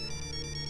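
A phone ringtone sounds for an incoming call, a steady electronic ring tone held through the whole brief moment, clear and unbroken with no voices.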